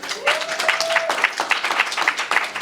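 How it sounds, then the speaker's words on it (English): Applause from a book launch audience, a clear burst of many hands clapping that keeps a fairly even level, with a brief voice or tone near the start. "Clap for April."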